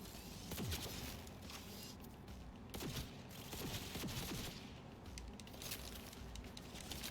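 Precision rifle gunfire in the Cyberpunk 2077 video game, with several sharp shots cracking through a dense, noisy game soundscape over about seven seconds.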